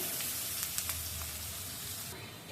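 Onions frying in oil in a pan, a steady close sizzle and hiss running throughout with a few brief crackles, no talking over it.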